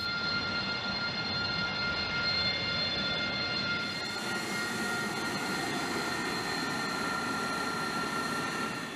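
Steady, loud engine roar from an AV-8B Harrier short-takeoff jet attack aircraft, a continuous broadband rush with a tonal whine that brightens slightly partway through and holds for the whole nine seconds, with no voices.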